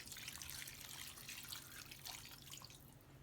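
Water is poured into a pot of butternut squash soup, a faint, steady trickling and splashing stream that runs for a few seconds without speech.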